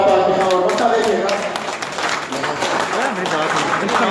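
Audience applause and clapping at a Haryanvi mushaira poetry recital in Pakistan, a dense, steady wash of many hands lasting throughout, with a voice speaking over it.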